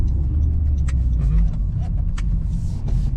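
A 2017 Honda Accord Coupe EX-L V6 rumbles at low speed through a U-turn, a steady close engine and road drone inside the cabin with faint ticks and clicks.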